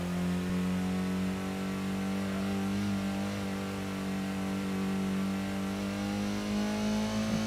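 A Honda Prelude engine in the racing game Gran Turismo (PS1) drones steadily at high revs, a loud continuous buzzing tone that holds nearly level with slight pitch shifts, no voices.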